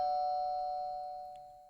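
A video-game doorbell gives one ding-dong chime, a clear tonal ring that sustains and slowly fades over almost two seconds, with nothing else sounding.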